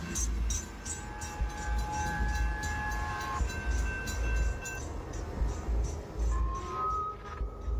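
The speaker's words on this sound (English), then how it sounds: "As the train rushed by," A train rushes past very close by, a loud continuous rumble and clatter of rail cars with tonal squeals and horn-like notes rising and fading throughout.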